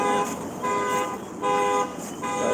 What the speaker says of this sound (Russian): Кому он там гудит?